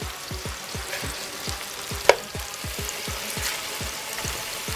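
Frozen sausage patties frying in a pan make a quiet, steady sizzle with fine crackles, a sharp click near the middle and a regular low ticking pulse underneath, without any talk.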